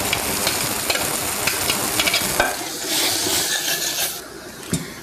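Half-cooked peas stir and sizzle in a pan of hot light soy oil, with a steady frying hiss broken by scraping stirs and an occasional sharp knock of the spoon.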